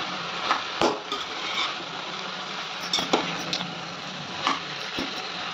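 Ingredients with salt being stirred and mixed in a frying pan, a constant sizzle broken by several sharp scrapes and clinks of a spoon against the pan.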